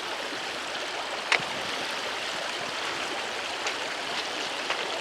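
Stream water runs at a hiking trail creek crossing, a steady broadband rush with no pauses, joined by a few faint splashes and drips. It sounds moderately near and continuous, with no talk.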